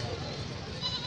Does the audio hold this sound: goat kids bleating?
yes